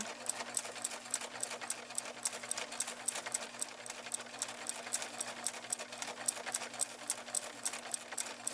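A sewing machine stitches fabric for a stuffed heart, running at a steady even pace with a fast regular clatter of needle strokes, close up and fairly quiet, with no voices.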